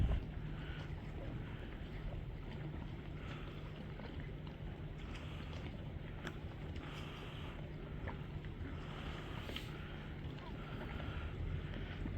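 A boat moves on water in Norway, giving a faint, steady low hum through wind buffeting on the microphone, with occasional soft splashes and knocks over about twelve seconds.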